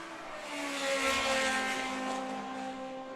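A Formula Ford race car with a Ford engine passes during an SVRA vintage race at VIR, its engine note swelling to a peak and then fading as it goes by at a distance.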